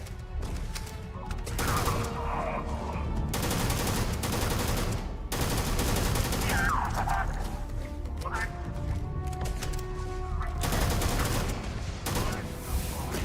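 Automatic fire from weapons in Starfield: Shattered Space comes in several loud, sustained bursts separated by short quieter stretches, with ambient game effects underneath.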